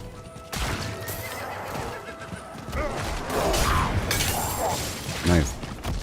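A horse in the video game Diablo 4, ridden by a level 100 Barbarian, gallops with steady clip-clop hooves under game sounds, then gives a loud whinny near the end.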